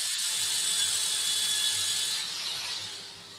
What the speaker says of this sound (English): There's that small drill again, says James.